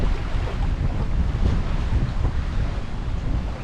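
Steady wind buffeting the microphone with a low roar at a beach, blended with the rush of surf, continuous and fairly loud throughout.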